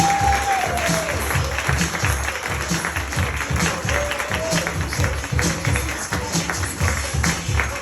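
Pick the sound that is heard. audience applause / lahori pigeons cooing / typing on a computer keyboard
audience applause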